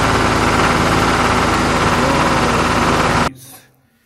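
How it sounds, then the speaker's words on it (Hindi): A red toy tractor gives off a loud, steady buzzing motor drone that holds evenly for about three seconds, then cuts off abruptly and leaves only faint fading residue. "इसके बाद हमारे पास है रेड कलर ट्रैक्टर"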